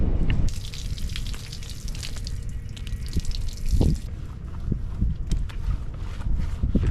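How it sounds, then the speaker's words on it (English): Hot water poured onto frozen RV steps during an ice storm, splashing and dripping close by with scattered drips and a brief gush, no talk over it. "It's so cold, it's freezing as fast as I can put hot water on it, and Angel already took a pretty bad fall"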